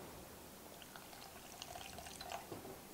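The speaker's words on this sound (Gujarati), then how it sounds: "હજી થોડુંક પાણી નાખીશું." Water is poured into a raw mango and wheat flour mixture in a home kitchen, a soft, faint trickle and splash that builds slightly toward the end, with no talking.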